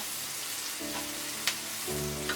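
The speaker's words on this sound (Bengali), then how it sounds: "পেঁয়াজটাকে আমি বেশি ভাজবো না একটু হালকা ভেজে নেব" Onions lightly frying in a pan give off a steady, hissing sizzle, with a low hum underneath and a couple of faint spoon clicks, close by and without talk.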